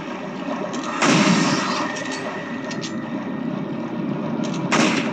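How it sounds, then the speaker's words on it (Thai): Sniper rifle fire in Resident Evil 4 on PS2, two sharp booming shots about four seconds apart standing out over a dull game background rumble. "สไนเปอร์เลยยิงทะลุ"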